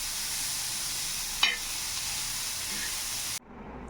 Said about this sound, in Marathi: हे तेल आणि मिठातलेच आहे फ्राय केलेले मक्के